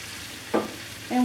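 Sausage sizzles faintly in a pot for a bean and sausage soup, with a soft low crackle and brief scraping stirs of a utensil against the pot.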